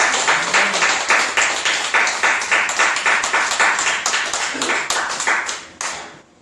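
Church congregation clapping together at a New Year thanksgiving service, a brisk, steady run of sharp rhythmic claps lasting several seconds before stopping abruptly.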